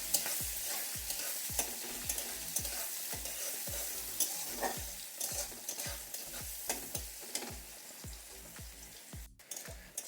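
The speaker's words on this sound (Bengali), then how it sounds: "পেঁয়াজটা একটু লাল করে ভেজে নিয়েছি" Chopped onion fries in oil with a constant sizzle while a utensil scrapes and stirs the pan in a quick, regular rhythm, close and without talk.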